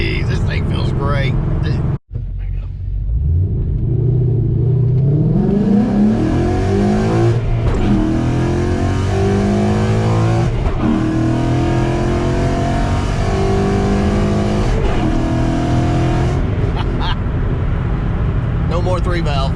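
A car fresh from a clutch job accelerates hard on the road, its engine revving in repeated rising sweeps broken by gear shifts, loud and close from inside the cabin.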